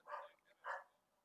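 A dog barks twice, faint and somewhat distant, in a quiet indoor room.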